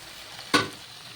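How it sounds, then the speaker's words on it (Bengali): A splash of water hits spice paste frying in a pan for an eggplant dish, producing a single sudden hissing burst that quickly fades back into a low background sizzle. "এখন আমি অল্প জল দিয়ে দেবো কষানোর জন্য।"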